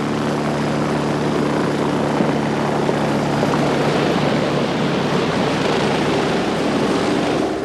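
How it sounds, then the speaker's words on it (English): A helicopter is heard in a 1980 North Sea hijack thriller, a loud, steady, continuous rotor and engine roar that fills the whole stretch without pause. "They've called a helicopter back."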